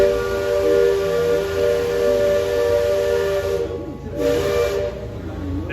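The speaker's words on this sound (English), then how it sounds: "Beautiful whistle, can't beat it." A loud, sustained steam whistle at Disney's Magic Kingdom blows with a rich chord of tones, briefly cutting out near the end before sounding again.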